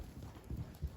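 A two-year-old filly walks forward while being ground driven, her hooves landing in soft, muffled clip-clops, a few steady steps close by over a low outdoor background.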